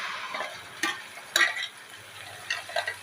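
Ground gravy goes into hot oil tempered with asafoetida for paneer bhurji, giving a fairly quiet close sizzle broken by a few sharp stirring scrapes and spoon knocks, no talking.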